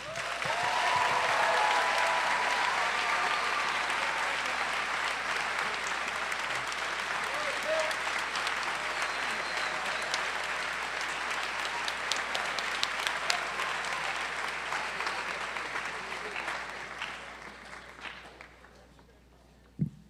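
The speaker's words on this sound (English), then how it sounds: "I'd like you to recognize her and give her applause for what she's done" Sustained applause from a graduation audience at a high school ceremony, steady and fairly loud for most of its length before thinning and fading toward the end.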